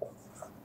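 A pen scratches briefly across paper while a maths problem is worked out, a short, faint stroke with a small second touch.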